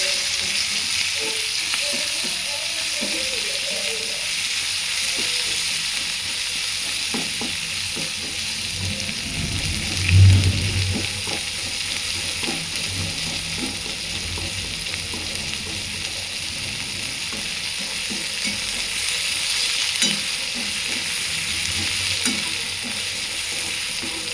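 Sliced onion for paneer chilli sautéing in a pan, a steady close-up sizzle with scraping and stirring clatter, one louder knock partway through.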